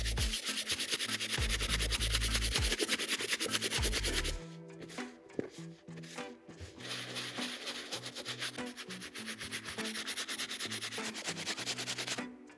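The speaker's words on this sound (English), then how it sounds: "I'm gonna scrub in a circular motion and pat dry it as I go." A soft bristle brush scrubs the tongue of an Air Jordan 1 sneaker in circular strokes, making quiet rhythmic rubbing and scratching sounds, with a heavier low thumping stretch early on.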